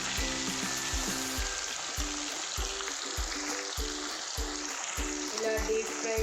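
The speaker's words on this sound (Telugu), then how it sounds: "ఇలా డీప్ ఫ్రై చేసుకోండి" Chicken pakoda pieces deep-frying in hot oil, a steady loud sizzle and bubbling crackle running throughout, with faint rhythmic low thuds beneath it and no talking.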